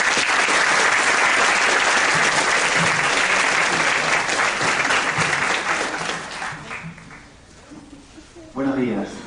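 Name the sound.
applause welcoming the speaker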